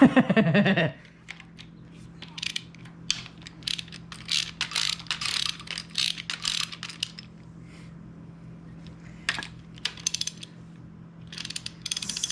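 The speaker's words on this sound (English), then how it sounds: "So we'll use the biggest wrench possible." A wrench works loose the ground wire on the engine harness of a 1993 Lexus SC400 1UZ-FE V8 mounted on an engine stand, making a run of rapid ratcheting clicks and metallic taps, close, after a brief burst of louder noise at the start.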